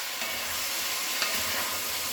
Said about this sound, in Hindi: सारे वेजिटेबल को फ्राई करते हुए 4 से 5 मिनट हो गया है